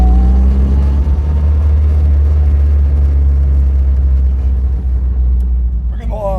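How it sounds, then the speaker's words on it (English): A 1976 MG Midget on a test drive with a suspected transmission fault and leaking differential, a loud steady low engine and drivetrain drone with a whining tone, heard from inside the car. "Definitely some noises going on. I know the diff has been leaking, but it sounds like a transmission's got something wrong."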